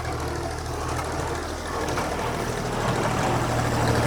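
A tractor engine idles steadily through the clip at a farm during hay baling, a constant low rumble that stays even and fairly loud, with no voices heard.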